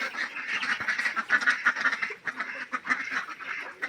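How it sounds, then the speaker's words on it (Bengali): Nine ducklings quack and peep in a rapid, overlapping chorus, close by and continuous, with no one talking. "এই পাশে আছে ইনশাআল্লাহ এই 9টা হাঁসের বাচ্চা।"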